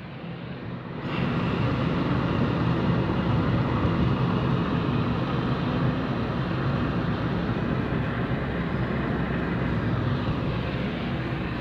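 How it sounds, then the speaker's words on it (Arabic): A steady, broad roar of an airplane passing overhead, loud and continuous after a brief quieter start, with no voices. "هذه طيارة شاد."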